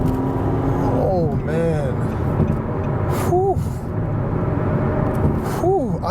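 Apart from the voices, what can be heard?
2018 Nissan Maxima S accelerating hard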